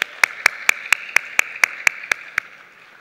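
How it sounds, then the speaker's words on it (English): A single pair of hands claps steadily at an awards ceremony, about ten sharp, evenly spaced claps that fade out toward the end in a quiet room. "So there's two of us who are clapping."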